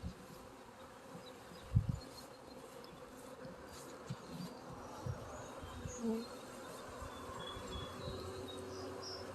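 Bees buzzing around a double-decker hive, a faint continuous hum with occasional louder passes close by, outdoors.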